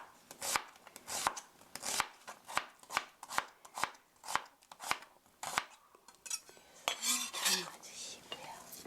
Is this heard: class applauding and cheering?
no